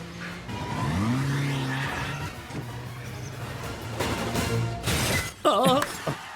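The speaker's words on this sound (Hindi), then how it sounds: "ये तो एक चेज है ना?" A car chase scene in a police crime film, with a revving engine, squealing tire skids and a sharp crash of shattering near the end, loud and close.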